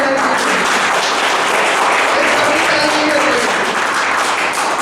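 Lecture hall audience applauding a speaker at an Azadi ka Amrit Mahotsav lecture, steady dense clapping from many hands throughout, loud and continuous with faint voices underneath.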